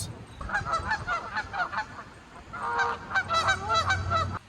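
Several geese honk repeatedly in bursts near a pond, loud and close, with harmonic calls overlapping through the stretch and a brief lull before a second flurry.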